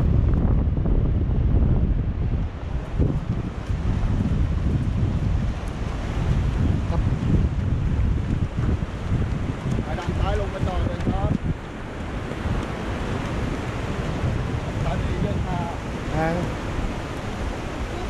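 Sea waves wash steadily onto the beach at Hua Hin in the morning, with strong wind buffeting the microphone, a continuous loud roar of surf and gusts, and faint voices in the background.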